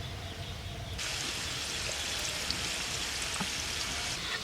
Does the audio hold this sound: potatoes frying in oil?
yes